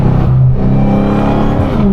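A hoodless widebody Dodge Hellcat's engine revs loudly and close, a deep, rising and falling roar that fills both seconds without pause.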